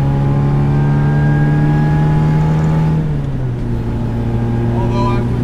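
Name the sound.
supercharged MGB engine revving, aftermarket exhaust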